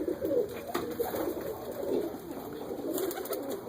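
Pigeons in a breeding loft of older birds and youngsters coo in low, repeated, throaty pulses, several birds overlapping at close range against a steady background.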